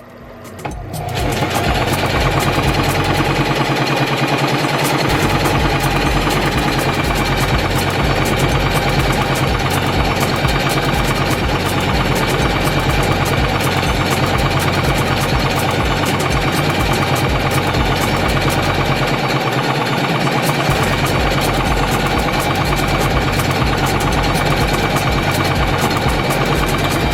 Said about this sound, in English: I'm gonna go ahead and sew all of this